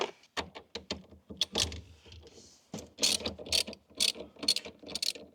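A ratchet with a 10 mm socket loosens the negative battery terminal on a BMW E89 Z4, giving close, bursty metallic clicking in short irregular runs separated by pauses.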